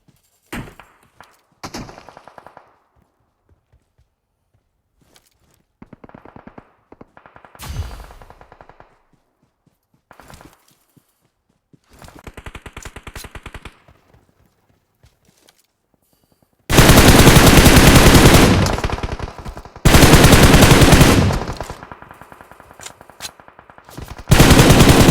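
Automatic and single-shot gunfire from PUBG Mobile, in scattered bursts that build into two long, loud, dense volleys of rapid fire near the end, with brief clanks and thuds between.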